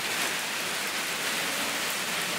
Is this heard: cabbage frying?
no